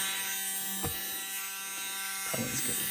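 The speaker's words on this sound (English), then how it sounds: "So, enough with the dremel." A Dremel rotary tool works on a polycarbonate RC car body during crack repair, giving a steady buzzing whine that runs throughout the clip, with a couple of brief scraping bursts.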